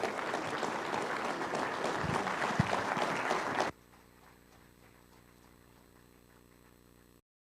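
Crowd at an evangelistic campaign gives strong, dense applause welcoming a pastor from a church in Gwangju, South Korea, then it cuts off abruptly into near silence.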